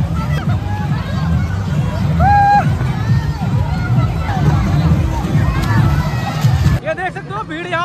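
Dense crowd hubbub at a busy water park in Faridabad, with many overlapping voices, children's shouts and squeals, and steady splashy background noise throughout, thinning near the end.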